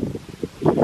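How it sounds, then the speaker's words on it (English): Wind buffets the microphone in short, low gusts, rumbling and uneven over under a second, outdoors in Texas. "So windy."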